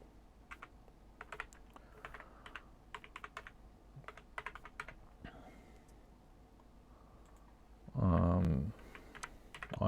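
Form entries being typed on a computer keyboard: quick bursts of light key clicks with short pauses between them, close and fairly faint, then a brief louder thud near the end.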